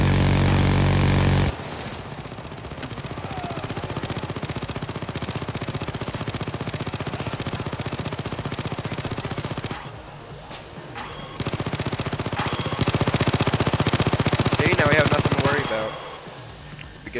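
Sentry turrets firing during a Payday heist game, a sustained loud barrage of rapid automatic gunfire with brief lulls and bursts, mixed with game noise and occasional voices.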